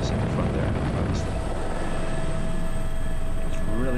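Steady, loud rotor and turbine roar from inside the cabin of a helicopter fitted with dual controls, flying over snow in cold conditions, continuous throughout with faint voices underneath.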